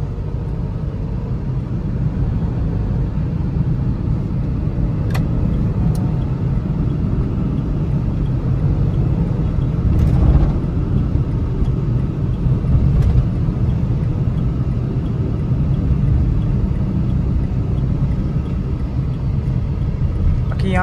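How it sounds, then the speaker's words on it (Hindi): A Renault Kwid RXT hatchback drives and accelerates through a turn. A loud, continuous engine and road rumble fills the cabin throughout, swelling slightly midway, with occasional faint clicks. "यहाँ से टर्न करते हुए एक बार हैवी पिकअप टेस्ट करते हैं इस क्विड का"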